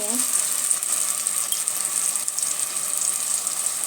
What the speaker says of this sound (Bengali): এই চিংড়ি কয়েকটা তেলের উপর দিয়ে এটা তেলে দিলেই হয়ে যাবে